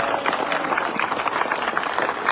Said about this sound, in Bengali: তার জন্য হাততালি দিয়ে একটা জোরে হাততালি দিতে হবে।